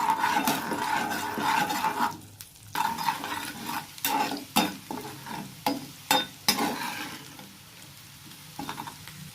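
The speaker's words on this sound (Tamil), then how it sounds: "இப்போ இதில் இஞ்சி பூண்டு ரெண்டுத்தையும் சேர்த்து வதக்கிக்கலாம்." Ginger and garlic sauté in hot oil in a pan, a loud sizzle at first, then a run of sharp spoon-against-pan stirring knocks over a fading fry, close up.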